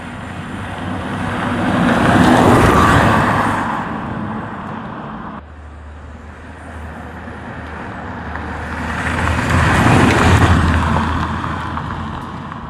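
A car engine roars on a test drive, captured by an Insta360 Ace Pro action camera, swelling loud twice with a quieter stretch between, steady road rumble throughout and no talk.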